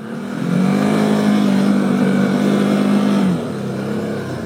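A TGB Blade 1000 LT EPS quad climbs a slope, its engine revving loud and sustained close by for about three seconds, then easing off to a lower drone as the throttle is cut.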